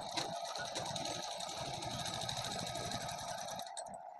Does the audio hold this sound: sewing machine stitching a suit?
yes